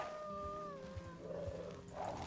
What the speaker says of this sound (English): Did I hear angry dog barking or something.